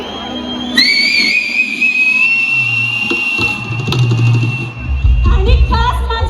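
Whistle blasts at a Koli seafood festival in Versova: two sharp, loud, sustained shrill tones up front, followed by a crowd murmur and nearby talking as the festival noise continues.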